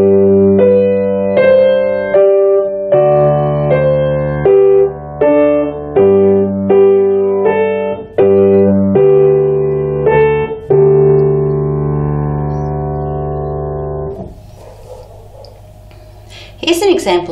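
Ode to Joy played on piano as a clear, loud melody over sustained chords, ending on a long held final chord that fades before a few faint noises.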